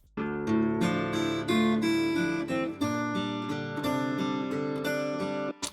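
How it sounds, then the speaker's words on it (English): A looped guitar sample plays alone for several seconds, sustained harmonic chords ringing out with a steady, full sound and a brief dip near the middle. "the first sound we got is this guitar sound that sounds like this"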